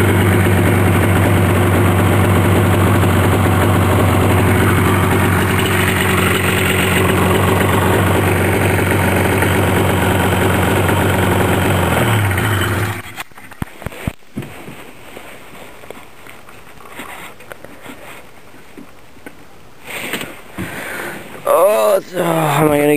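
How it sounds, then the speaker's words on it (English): A TXL engine idles loudly and steadily during a rebuild while its idle is adjusted, then cuts out abruptly, leaving quieter handling clatter and knocks. "I gotta turn up the idle a little bit."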